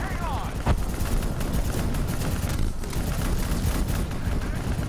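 Call of Duty: Black Ops III gunfire on a veteran-difficulty mission rattles in dense overlapping bursts and shots, loud and continuous alongside combat rumble, while someone talks over the fighting.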